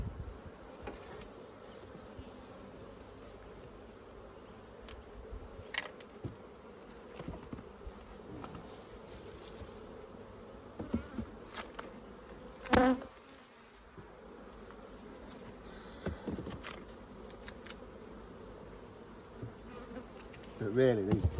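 Bees buzz steadily around a home beehive during an autumn inspection, a close, continuous drone with occasional knocks and handling noises and brief sounds of a person nearby.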